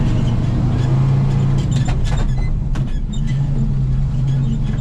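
A loaded grain truck hauling beans on a cold morning pulls away in low gear, its heavy engine a loud, steady low rumble with a continuous drone and no talk over it.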